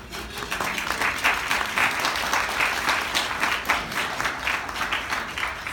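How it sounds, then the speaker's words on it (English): Conference audience at a psychodrama award ceremony applauding an honoree, a continuous wash of many hands clapping with a slightly pulsing rhythm, fairly close and steady throughout. "So I want to just clap for her"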